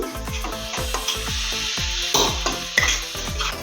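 Rhythmic stirring and scraping in a pan while making peas chaat, a steady series of strokes about every quarter second over a continuous sizzle of frying food.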